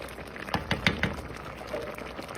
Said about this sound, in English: I'm just kind of mushing it, making sure that everything's soft and mushed and cooked down.